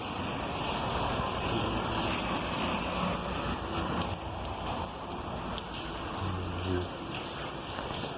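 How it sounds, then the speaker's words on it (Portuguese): Heavy rain pours down steadily outdoors, a dense, continuous hiss of downpour that stays loud and unbroken throughout, with no voices. "Tava uma chuvarada doida aqui, rapaziada, olha aí."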